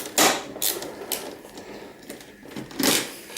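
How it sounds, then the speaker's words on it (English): Screws being removed from circuit boards while a printer is scrapped for gold recovery, heard as loud close mechanical clicks and rattles in irregular bursts with brief pauses between them. "we'll just quickly remove the screws from these boards"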